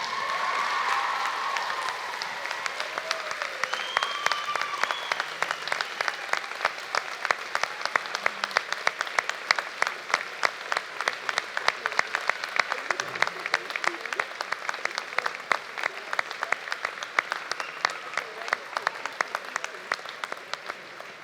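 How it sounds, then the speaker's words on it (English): Convocation graduates at the University of Alberta break into dense, sustained applause from a large crowd, steady and full for the whole stretch after a brief lead-in. "Let's give the people who have supported you through all of this, your parents, your siblings, your grandparents, your spouses and children, a huge round of applause."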